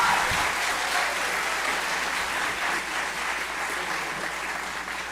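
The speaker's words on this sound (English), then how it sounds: "How about another round of applause for all of our singers tonight" Audience applause following a high school spring choir concert, a dense, steady wash of many hands clapping that holds for several seconds and eases off slightly toward the end.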